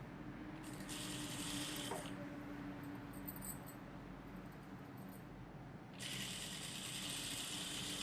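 Sewing machine stitching a chudithar runs in steady mechanical bursts, close but soft, pausing briefly before starting up again.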